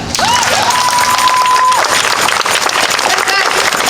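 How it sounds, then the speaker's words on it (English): A crowd at a protest march in Richmond, Virginia bursts into loud, dense applause that fades over a few seconds, with a brief whistle-like tone near the start and voices mixed in. "clap that up"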